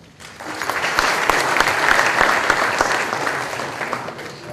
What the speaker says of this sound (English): We would like to welcome our director with a huge round of applause.